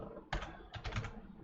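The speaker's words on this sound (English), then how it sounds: "before I type a command, I'm going to grab a new line so you can see what I'm typing" Keystrokes on a computer keyboard while a command is entered, two short clusters of quick, close clicks in an otherwise quiet room.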